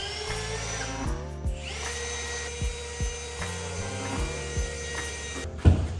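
A power tool whirs in several short bursts while driving bolts through a mounting plate for a soap injection system, medium-close with brief quiet gaps between runs, and no voices.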